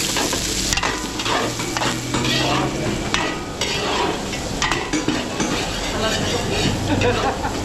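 Garlic and onion sautéing for chop suey in a catering kitchen, a steady loud sizzle with stirring scrapes throughout and a low rumbling hum beneath, with voices talking faintly in the background.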